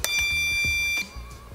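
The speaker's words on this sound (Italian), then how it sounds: "bel bip, accendiamo il modello." A single sustained electronic beep as an RC model, a Huina 1580 excavator, powers on, fairly loud and high-pitched, holds for about a second and then cuts off, leaving faint low tones.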